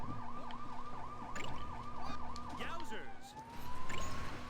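A wailing police car siren from the Lego City Undercover video game rises and falls in rapid yelps, then sweeps into a long steady tone before it cuts off, with game engine hum underneath.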